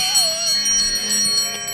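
A Christmas bell decoration at a flea market plays a chiming tune. Bright, steady metallic tones ring close and fairly loud for the whole moment, with no voices over them.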